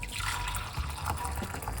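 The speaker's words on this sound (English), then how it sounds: "we are going to pour it off" Liquid poured off from a pot of rosemary-infused cooking, a soft steady splash and trickle close by, fairly quiet with no talk.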